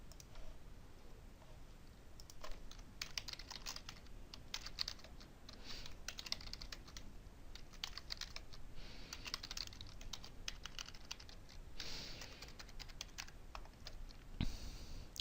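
Steady typing on a computer keyboard while contact fields are filled in on a database screen, with rapid, fairly quiet key clicks running throughout over a faint background hiss and no speech.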